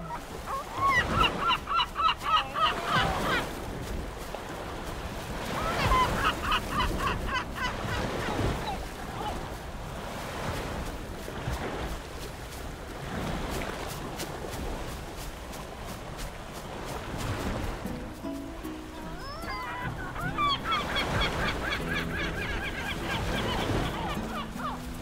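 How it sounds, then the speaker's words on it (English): Seagull cries in a looping game ambience set up in FMOD and Unreal, intermittent calls scattered across a steady background wash, with quieter stretches between bursts. "Turn down the probability of these seagulls."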